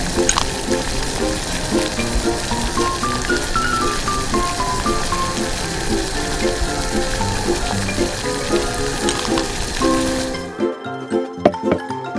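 Clams sizzle and fry in a pan in a small home kitchen, a steady loud crackle with clinking and stirring noises that cuts off abruptly near the end, leaving quieter kitchen sounds.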